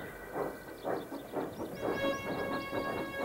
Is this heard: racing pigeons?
no